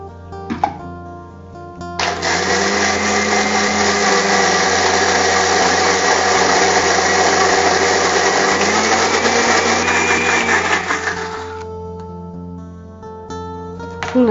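A kitchen mixer grinder churns soaked urad dal with water into a thick batter, running loud and steady for about ten seconds with a whining motor and coarse grinding, then shutting off.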